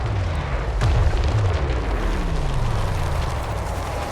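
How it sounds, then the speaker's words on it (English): Chaos Dwarf artillery fire in a strategy video game, a steady rumbling barrage with low booms and a descending whistle-like sweep, loud and continuous with no talk. "this artillery is just so powerful"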